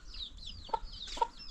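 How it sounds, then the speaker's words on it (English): Village chickens clucking close by, a few short, sharp clucks and squawks spread across a brief moment, with quiet background between calls. "So these are our chickens."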